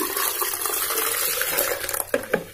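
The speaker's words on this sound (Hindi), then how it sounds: "इसमें डालेंगे हम ठंडा पानी" Cold water poured into a vessel while making shikanji lemonade, a steady rushing pour with splashy gurgles near the end, close and fairly loud.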